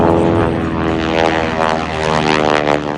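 A T-6 airplane with a 9-cylinder Pratt & Whitney radial engine and propeller roars loud and steady during a low aerobatic display, a deep throbbing drone with a rich buzzing whine; a faint voice briefly speaks beneath it.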